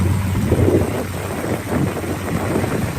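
A steady, low muscle-car engine rumble idles nearby with a smooth, even throb and some breezy, wind-like noise over the top.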